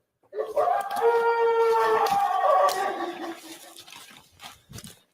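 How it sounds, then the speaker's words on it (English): A wolf pack gives a warning howl: a long, wavering, tonal howl holds for about two seconds, then tails off into weaker, broken calls and faint yips. "the pack decides not to pursue any further and lets them off with a warning howl."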